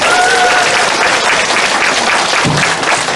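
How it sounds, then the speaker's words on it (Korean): A lecture audience claps loudly and continuously, a dense wash of applause that holds steady for the whole stretch. "다시 한번 뜨거운 감사의 박수를 부탁드립니다"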